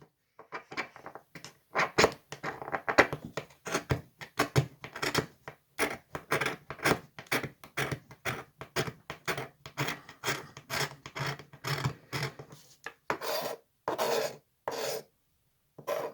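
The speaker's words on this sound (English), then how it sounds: "You have to scrape the black off, and then I start by making a pile of shavings." A toggle fire steel is scraped hard to strip its black coating and pile up metal shavings, with quick rhythmic rasping strokes close up that come in bursts with brief pauses and no talking.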